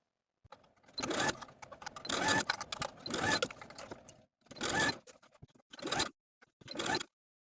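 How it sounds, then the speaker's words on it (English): Bursts of mechanical whirring from a sewing machine stitching, several separate runs with short pauses between them, fairly close and moderately loud. "Take this to the sewing machine and sew our binding to the armhole through all the layers"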